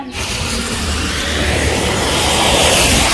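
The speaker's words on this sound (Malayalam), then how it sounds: "ഒരു രക്ഷയില്ലാത്ത മഴയാണ്" Loud, dense, steady roar of heavy rain, close and unbroken, building slightly over a few seconds.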